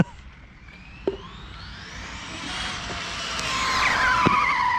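A racing car's tires squeal in a long rising skid under late braking in a video game, over an engine whine that builds steadily louder, with a couple of sharp clicks along the way.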